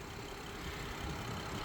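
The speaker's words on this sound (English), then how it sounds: "Looking at the engine, the actual engine itself, you can hear it idling very smoothly here." Turbocharged inline-six of a 2018 BMW 540i xDrive M-Sport idling smoothly, a steady low hum with an even rumble heard up close and alone.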